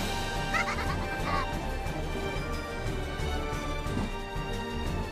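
Goat-like bleating giggles from young women, a wavering high nasal laugh rising over a dense, busy background mix, moderately loud and continuous without speech.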